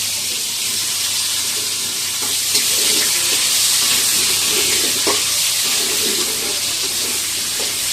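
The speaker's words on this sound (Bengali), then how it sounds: "আমার কাছে তেলের শব্দটা খুব ভালো লাগে" Potatoes frying in hot oil during home biryani cooking, a steady broad sizzle throughout with faint stirring clicks, close and continuous with no talking.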